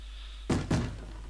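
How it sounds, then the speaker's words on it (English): A zombie bangs on a door in Minecraft: two heavy thuds in quick succession, loud and close, over a steady low hum. "the zombie started banging on the door"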